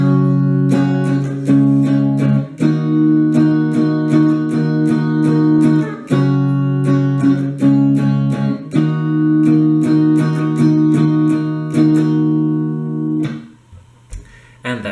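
Guitar playing a song riff twice through, strummed chords ringing in a steady repeating pattern, loud and close, fading out at the end.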